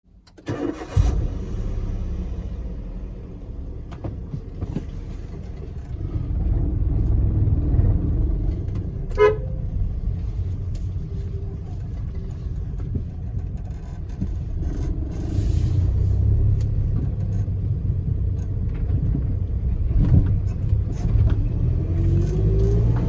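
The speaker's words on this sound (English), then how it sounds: "The engine has become a bit noisy along with slightly decreased pickup." A Maruti Suzuki car engine starts and settles into a steady low rumble, somewhat noisy, with a few clicks and faint mechanical knocks over it and no talking.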